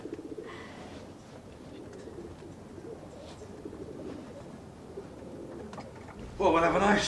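Pigeons coo in soft, low murmurs under indoor room noise and faint voices, then a louder burst of sound breaks in at the end.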